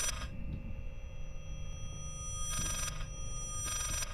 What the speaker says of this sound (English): Why is the ringtone going backwards?